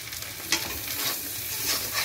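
Rohu fish roe frying in hot oil, a steady crackling sizzle with sharp spatters popping out at intervals, close and moderately loud, with no voices.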